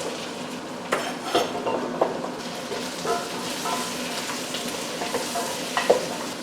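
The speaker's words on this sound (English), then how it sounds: "add that into the pot and cook the vegetables for about 4 to 5 minutes" Carrots, celery and squash cooking in a pot, with a steady bed of sizzle and occasional spoon stirs and clinks against the pot, close and even in level, without speech.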